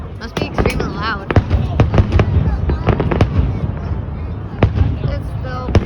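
Outdoor fireworks display bangs and crackles in rapid, dense bursts nearby, loud and continuous, with spectators talking underneath.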